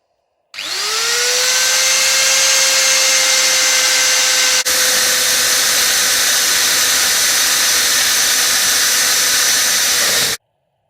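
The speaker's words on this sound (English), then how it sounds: "Now to begin the drilling procedure. This is going to be quite noisy." A loud, steady whine of a drill biting into a cast metal rear hub, rising in pitch at the start and holding a harsh, sustained grinding tone until it stops abruptly.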